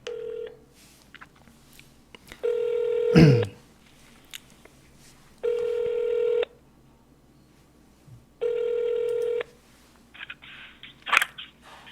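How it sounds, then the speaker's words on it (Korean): An outgoing telephone call rings back in the earpiece, three steady tone bursts about a second long with regular pauses, preceded by brief dialing clicks and small handling noises. "지금 전화를 바로 했습니다."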